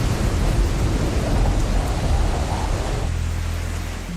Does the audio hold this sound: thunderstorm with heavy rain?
yes